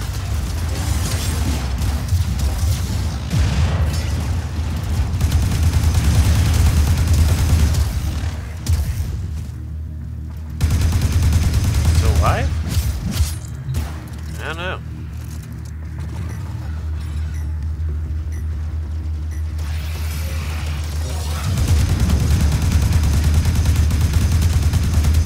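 Gunfire rattles through a loud, dense Warframe fight during an Orokin event, with long stretches of continuous shooting and clanking broken by a few quieter gaps and sharp single cracks.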